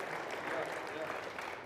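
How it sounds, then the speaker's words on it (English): A brief, light round of applause from a seminar audience, a soft even patter of clapping throughout with no voices over it. "Is it appropriate for you to give them just a light round of applause there?"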